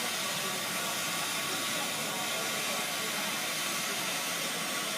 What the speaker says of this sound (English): I'm going to run my normal flame.